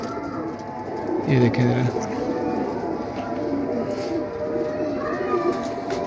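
Pigeon cooing, a low soft burbling call near the start, heard under a man's speech with steady outdoor background noise.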